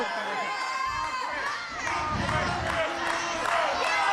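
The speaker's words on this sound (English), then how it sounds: "Listen to this crowd." A wrestling crowd at a CM Punk versus Chris Hero match roars and cheers continuously, a dense wash of shouting voices with swelling rhythmic surges, loud and close.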